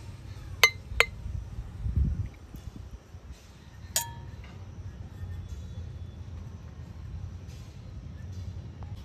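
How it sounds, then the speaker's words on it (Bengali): A lemon pickle jar gets its lid closed tightly: a few sharp, bright glassy clinks near the start and another around the middle, over a low, steady room rumble. "মুখটাকে এইভাবে ভালো করে টাইট করে বন্ধ করে দেব।"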